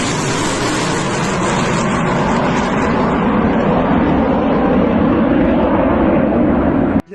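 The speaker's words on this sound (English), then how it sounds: "Ukrainian MiG-29 fighters work on the front line at extremely low altitudes, supporting the advance of the infantry units." Ukrainian MiG-29 fighter jets flying at extremely low altitude over a front line make a loud, continuous broadband jet roar. It builds slightly as they pass and cuts off abruptly at the end.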